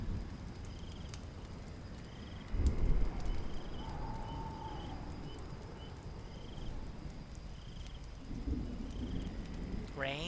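Rain and thunder in a fantasy video game battle: a soft, steady rain hiss with a low rumbling thunder roll, a second rumble later, and faint high chirps over the storm.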